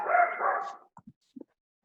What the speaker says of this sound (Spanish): Perdón por los ladridos de mis perros, ¿eh?